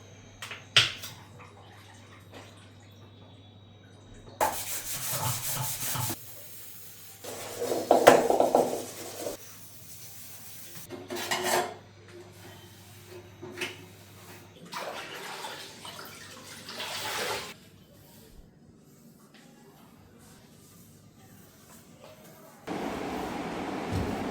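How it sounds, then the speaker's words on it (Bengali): Dishes, pots and utensils are washed by hand with water in a home kitchen, with bursts of running water, clinks and scrubbing coming and going between quiet pauses, and a voice speaking briefly. "তো এখন সব বাসনপত্রগুলো ধুয়ে ফেলবো"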